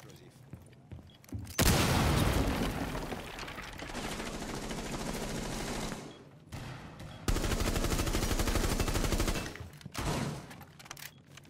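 Heavy gunfire in Rainbow Six Siege, loud and close: dense, sustained bursts with a brief lull before another booming volley that includes shotgun blasts, no talk over it.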